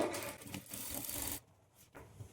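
A sewing machine stitches churidar pant pieces, a close, steady mechanical whirring run that cuts off abruptly, followed by a few faint taps.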